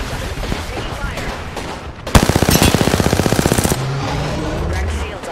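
Rapid automatic gunfire bursts out in a video game firefight, a loud, fast string of shots lasting under two seconds, with game noise and voices around it.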